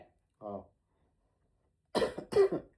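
A person coughs, one short cough followed after a pause by two louder, closer coughs.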